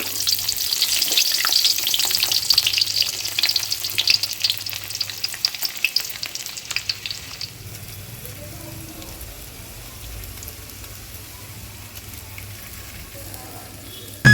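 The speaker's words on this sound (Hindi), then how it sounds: "तेल हमारा गर्म हो चुका था। उसमें हमने डाल दिया है हींग, लहसुन और जीरा" Asafoetida, garlic and cumin fry in hot oil in a kadhai over a chulha, a loud, steady sizzle with scattered crackles for most of the clip, fading to a softer hiss in the second half; no talk.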